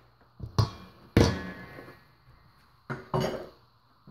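Several separate scraping and knocking sounds as bananas are scraped out of a blender jar, in short bursts with pauses between, close by and fairly quiet.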